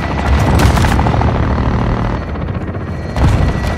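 Air support strike explosions in Call of Duty: Modern Warfare 2 (2022): loud, heavy booms roll in two main waves with rumbling gunfire and debris in between, close and forceful.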